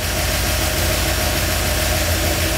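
A Ford F-350 engine idles after a FiTech fuel injection install, giving a steady, loud, close rumble with an even low throb and no change in pitch throughout.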